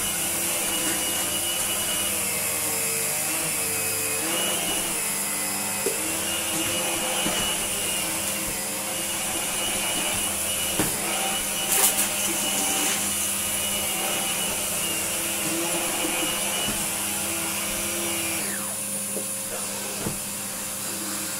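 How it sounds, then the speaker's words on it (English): A Numatic Henry HVR160 vacuum cleaner with a modified motor runs steadily as a straight suction cleaner, a loud continuous whine and roar with a brief surge in the middle and no talking. "I can use it as a straight suction cleaner"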